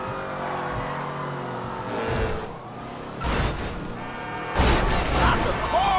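A stolen sports car drives through the streets in GTA V, its engine revving and surging in waves, with bursts of acceleration and tire noise, loud and close throughout.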